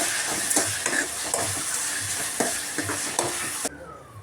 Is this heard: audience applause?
no